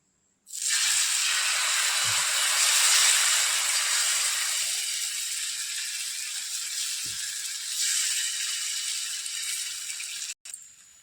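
Loud, steady sizzling hiss as jowar batter hits a hot griddle, starting abruptly and continuing for several seconds, slowly easing, with a faint clink near the end.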